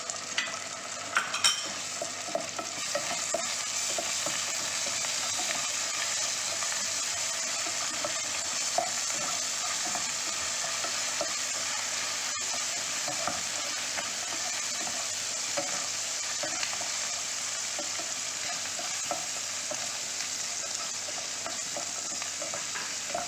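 Ginger garlic paste fries in a pan for capsicum paneer masala while being stirred, a constant loud sizzle broken by frequent scraping and clicking of the spoon against the pan.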